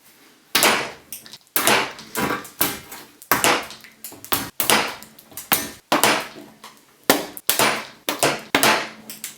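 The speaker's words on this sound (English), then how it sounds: "So I'm going to get the camera set up and we are going to punch some holes." A hole punch press punches holes in kids' adventure shields, giving a steady series of sharp, loud metallic thumps and clunks in an uneven rhythm, with short gaps between the strikes and no talking.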